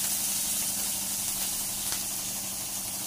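Onion, garlic, mustard seeds and cumin frying in a hot pan, a dense, steady, close sizzle that hisses continuously throughout without pauses.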